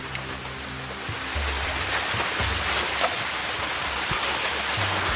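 Water runs down a mossy forest trail, a steady, broad rushing that fills the whole stretch without a break. The flow sounds close, with no voices over it.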